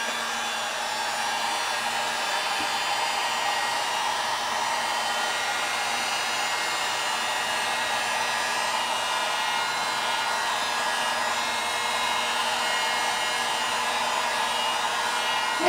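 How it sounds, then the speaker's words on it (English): A heat gun blows a constant, even hiss of hot air onto a resin ring, loud and close, holding steady for the whole stretch with no pauses and no voices. "I'm actually going to hit it with the heat gun."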